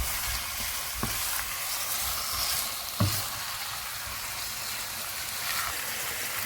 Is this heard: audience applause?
no